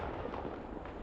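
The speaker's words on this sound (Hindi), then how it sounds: "दिए बुझ जाते हैं सारे, इतना हैवी पटाखा" A heavy Diwali firecracker explodes on a brick outdoors, heard from about 40 feet away as a single loud, broadband blast that fills the whole moment.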